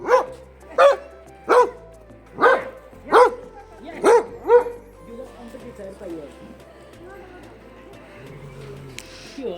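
Dog barks six times in a steady sequence close by, then quieter background sounds and faint voices follow.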